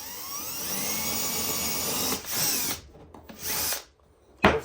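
A power drill whirs steadily for a couple of seconds, then runs in short bursts with brief pauses, close and loud, drilling a pilot hole in a table leg for an insert.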